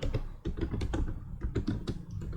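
QBasic code is typed on a computer keyboard in a quick run of clattering keystrokes, close and clear, with no voices.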